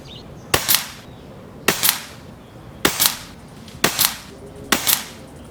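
A Behemoth air rifle fires 16.08 grain JTS pellets, five sharp cracking shots spaced about a second apart, each followed by a brief metallic ring, close and loud without talking.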